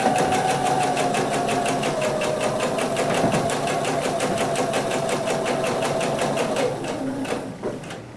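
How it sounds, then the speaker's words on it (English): A sewing machine runs steadily while stitching a quarter-inch seam on a quilt sampler block, its fast even needle rhythm loud and continuous before slowing and stopping near the end. "we are going to go ahead and stitch the 1/4 inch that we need to complete that"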